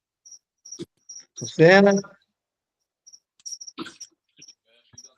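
A cricket chirps in short repeated high bursts throughout, heard indoors during an online meeting, with a brief voice and some other sounds breaking in partway.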